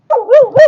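A single dog gives a short, loud, close bark with a rising-falling yelping tone at a rural Punjabi village dera, directed at visitors.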